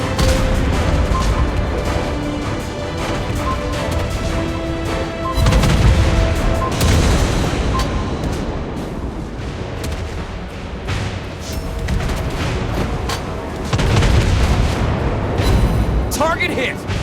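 Naval gunfire and shell hits in the World of Warships Blitz game, with repeated booming cannon blasts and impacts over a steady rumbling battle bed, plus game voice callouts.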